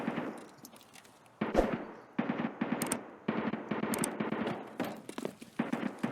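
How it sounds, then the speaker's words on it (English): Bursts of automatic gunfire from the game Escape from Tarkov, rapid cracking volleys in several clusters separated by short gaps, moderately distant and fairly quiet. "those shots that we're hearing is probably Rashala"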